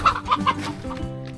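Wing-clipped chickens roaming free cluck softly nearby in a few quick, choppy calls, with a lower warble trailing off at the end.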